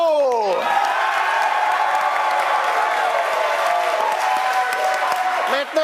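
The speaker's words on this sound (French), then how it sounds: "Applaudissez-vous!" Studio audience applauding on a French-language television game show, a dense, steady wash of clapping and crowd noise with a voice speaking over the start and a brief break near the end.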